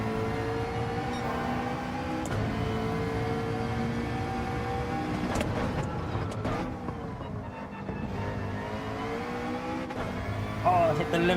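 A race car engine in Gran Turismo 7 at the Sardegna circuit revs hard through gears and bounces off the rev limiter, with repeated rising whines and tyre noise under a voice talking.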